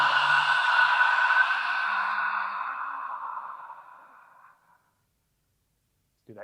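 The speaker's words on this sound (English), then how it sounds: "I'm going to inhale through the nose and then exhale through the mouth" A slow, breathy exhale through the mouth during a breathing drill, loud and close at first, then tapering gradually into silence, followed by the start of a faint breath at the very end.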